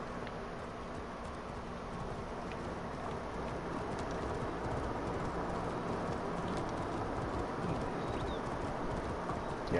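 Horse hooves clip-clop steadily on hard ground at a moderate distance, a continuous rhythmic patter over a soft outdoor background with a few faint bird calls.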